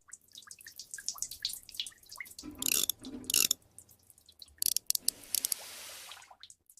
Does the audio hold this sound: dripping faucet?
yes